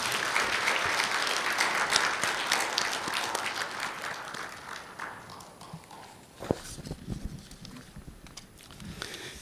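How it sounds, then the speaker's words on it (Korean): Dense applause from an audience welcoming the governor at the opening ceremony of a regional innovation and decentralization governance conference, loud and steady at first, then thinning to scattered claps as it fades. "뜨거운 박수로 맞아주시기 바랍니다"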